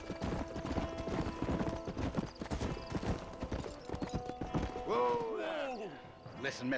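Steady clopping of horse hooves at a walking pace in the video game Red Dead Redemption, with a horse whinnying near the end.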